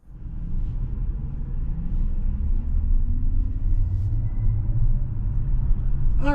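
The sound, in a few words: 2024 Kia EV6 GT Line electric car driving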